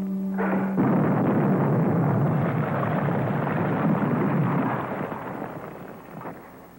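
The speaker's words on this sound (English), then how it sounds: "I'm going to blow you up with your own torpedo." A torpedo explodes in a long, loud roaring blast that fills the space for several seconds, then slowly dies away into rumble.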